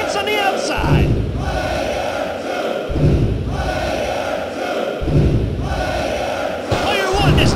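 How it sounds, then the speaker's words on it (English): Arena crowd in the PS1 wrestling game WWF Attitude, roaring continuously with repeated surges and heavy thuds roughly every two seconds, loud and close, over faint commentary. "This crowd is going berserk. They're loving it."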